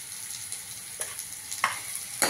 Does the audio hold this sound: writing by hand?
no